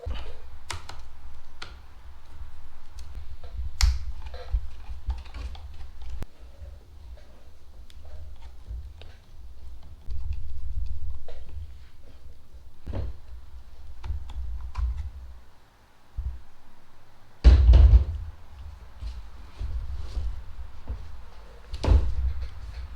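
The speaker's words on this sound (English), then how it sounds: "So I'm going to take off these screws and get this off and see what it looks like" Screws being worked loose from the back cover of a discarded weed eater, heard as scattered close clicks, taps and scrapes of a tool and plastic parts, with a few louder knocks and rattles spaced irregularly over a quiet room.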